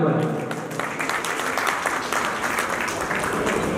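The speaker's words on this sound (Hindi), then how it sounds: "जोरदार तालियां अभी पर" Applause from a gathered audience at a kirtan, dense steady clapping spread across the whole stretch at moderate loudness, with faint voices mixed underneath.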